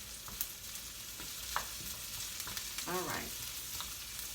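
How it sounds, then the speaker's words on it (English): Onions cooking down and starting to brown sizzle steadily in a pan, a faint constant frying hiss with a few soft stirring knocks, while someone says a couple of words. "So the onions are cooking down. They are starting to, some of them are starting to brown."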